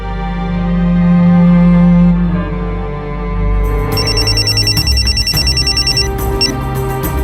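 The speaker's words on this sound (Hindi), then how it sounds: "हाँ सीमा बोल, क्यों बार बार फोन कर रही है?" A telephone rings in a Hindi crime drama: a repeated electronic ringtone pattern starts partway through and rings steadily to the end, loud over a low musical drone, with no talking.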